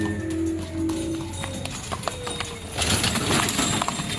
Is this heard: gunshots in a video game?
no